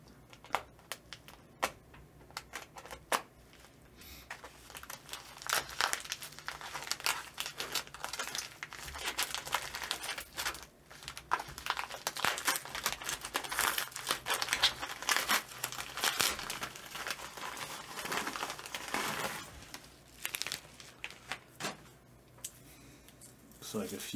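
A purple bubble mailer is torn open and handled, with close, irregular crinkling and tearing of plastic packaging that swells in the middle stretch; a person talks now and then over the rustling.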